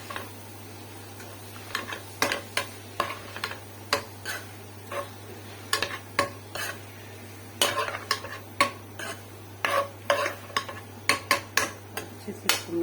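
Okra masala is stirred in a pan, a spoon scraping and clicking against the metal in irregular, close, distinct strokes over a quiet background hum with faint sizzling.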